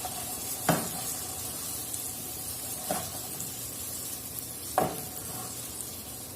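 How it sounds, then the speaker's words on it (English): A knife slices through a cooked New York strip steak right in the pan, giving three separate scraping strokes spaced a couple of seconds apart over a faint steady sizzle; no one speaks. "Let me just cut it on the pan and show you."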